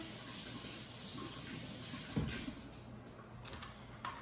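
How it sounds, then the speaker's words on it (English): Tap water runs steadily over a store-bought cucumber at a kitchen sink, a moderate continuous splashing with a few brief louder bursts, no talking. "I will wash my cucumber since it's from the store."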